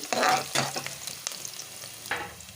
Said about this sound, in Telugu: అలాగే కరివేపాకు అయితే యాడ్ చేసుకోవాలి. ఇలా ఆయిల్లో అయితే మంచిగా వేయించుకోవాలి.